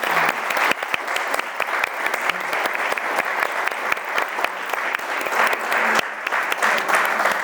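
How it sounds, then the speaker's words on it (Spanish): An audience at a town hall book event claps steadily for several seconds, a dense, loud wash of many hands with sharp individual claps standing out near the listener. "Un aplauso, de verdad,"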